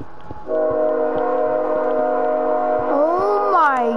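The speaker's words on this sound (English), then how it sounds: "is that a train passing by your house?" A train passes close by a house, sounding a long, loud multi-tone horn blast that bends in pitch near the end, over a low rolling rumble of the cars.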